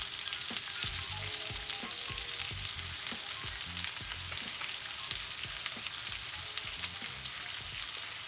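Garlic herb lamb chops fry in a pan with a loud, continuous close sizzle and spatter, broken by faint scattered ticks and taps throughout.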